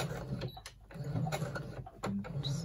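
A sewing machine backstitches through sequin fabric for a zipper coin purse, giving short bursts of close mechanical whirring and clatter separated by brief pauses.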